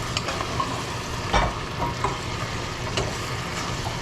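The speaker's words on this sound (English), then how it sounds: "I'm really trying my best to mix everything up here" Beef and bell peppers stir-frying in a hot pan, a steady close sizzle broken by scraping clicks and clatters as a utensil mixes the ingredients.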